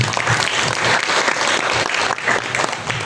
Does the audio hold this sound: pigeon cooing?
no